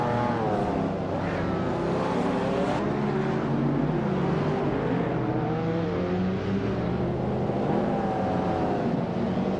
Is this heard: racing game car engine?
yes